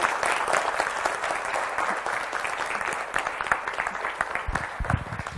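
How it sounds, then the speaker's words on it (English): A seated audience at a communication boot camp bursts into sustained applause after a speaker's talk, a dense wash of clapping that thins into scattered, more distinct claps toward the end. "can we all stand up and give her a round of applause?"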